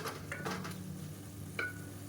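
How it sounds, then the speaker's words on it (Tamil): Chili powder sautéing in hot oil in a pan for Madurai-style mushroom biryani, a soft steady sizzle with a few stirring scrapes, close and fairly quiet, no talking. "இப்போ இதையும் சேர்த்து நல்லா அந்த எண்ணெயில் வதக்கி விட்டுக்கலாம்"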